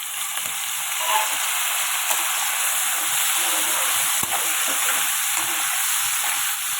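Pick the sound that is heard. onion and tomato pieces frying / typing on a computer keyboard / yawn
onion and tomato pieces frying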